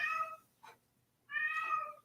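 A house cat meows twice, close and clear: a long drawn-out call, a brief pause with a faint short sound, then a second long meow.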